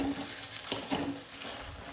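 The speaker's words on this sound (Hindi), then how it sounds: "पूरा घोट देती हूँ।" Cooked pumpkin and ridge gourd curry being mashed and stirred in a pan, a soft wet squelching and scraping with a faint sizzle underneath, close and steady.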